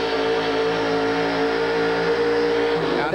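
A four-wheel-drive pulling truck's engine roars steadily at high revs as it pulls a sled down the track at a 1989 monster truck event in Minneapolis, loud and continuous with a dip near the end.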